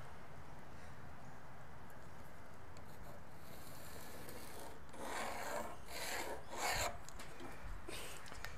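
Wood being marked with a framing square for an epoxy river table: quiet scraping and rubbing strokes, faint at first and then several louder rasping passes near the end, with no speech.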